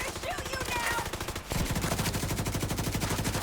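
Steady rapid-fire automatic gunfire in a shooting video game, a fast rhythmic stream of shots that briefly shifts in tone midway and then continues evenly, close and prominent.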